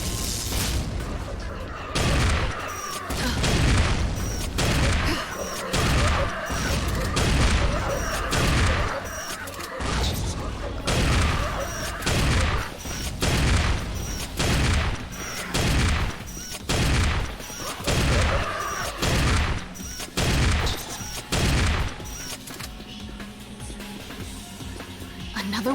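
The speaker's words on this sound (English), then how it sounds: "Shotgun." A shotgun fires over and over in the video game Dreamkiller. The blasts are loud and booming, spaced at an irregular but rapid pace, and a voice occasionally talks between them.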